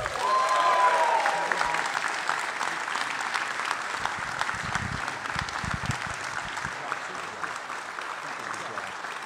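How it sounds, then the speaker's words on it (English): Sustained crowd applause for the second-place fire department team at an EMS competition event, broad even clapping filling the hall, with a faint brief tone and some low thumps early on. "please save some of that applause for our second place team this year"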